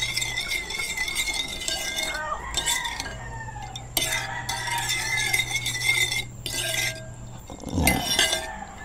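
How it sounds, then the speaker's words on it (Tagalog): A spoon stirs sweet and sour sauce for escabeche tilapia in a pan, giving scattered clinks and scrapes against the metal with short pauses between strokes, close and moderately loud, over a low steady hum. "Haluin po natin."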